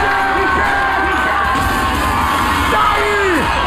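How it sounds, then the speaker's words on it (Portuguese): Loud crowd at a rodeo round of the CRP Burguesa 2021 event in Brazil, cheering, whooping and yelling continuously throughout, with an announcer's voice carrying over the dense roar. "cadê o grito, pode aplaudir"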